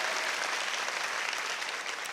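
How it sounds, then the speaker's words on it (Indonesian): A church congregation breaks into steady, dense applause during a worship service, many hands clapping together at an even, sustained level with no voices over it. "Tepuk tangannya yang paling meriah buat Tuhan kita yang luar biasa."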